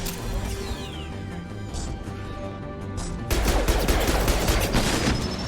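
Rocket and gun fire in the video game Mass Effect 2, with a burst of loud blasts and crashing impacts following a steadier stretch of game noise and tones.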